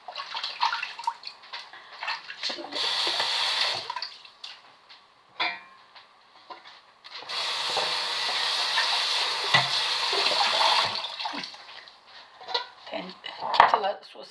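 Water is poured into a cooking pot while making dried fig jam, in two sustained rushing pours separated by quieter kitchen clatter and handling sounds.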